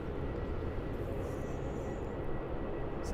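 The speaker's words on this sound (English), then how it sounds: "Jetstar slowly making its way to the international terminal." A Jetstar airliner taxiing slowly toward the international terminal at Melbourne Airport gives a steady, continuous low engine rumble that holds at an even level throughout, with no voices.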